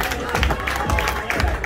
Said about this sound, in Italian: applausi pubblico